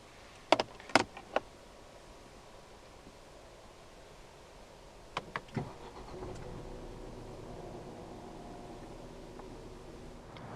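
A 2019 Ford Kuga 1.5 EcoBoost Titanium, with its door shut, makes a few sharp clicks and clunks and then starts up, settling into a low, steady idle heard from inside the car.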